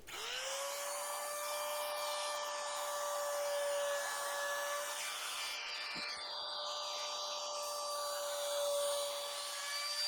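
A router cutting a bevel along the front edge of an oak shelf gives a steady, high, whining motor tone that holds loud and unbroken throughout, with a faint shift in pitch partway through as the bit bites the wood.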